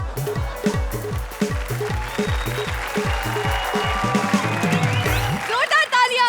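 A studio audience at a Comedy Circus comedy show claps in a sustained burst of applause, mixed under a loud rhythmic music beat with a thumping bass pulse.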